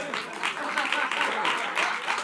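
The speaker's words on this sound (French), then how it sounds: "Alors on applaudit Marwan, s'il vous plaît." A live comedy-show audience applauds a volunteer called up on stage, steady dense clapping with small swells throughout, fairly close and continuous with no voices on top.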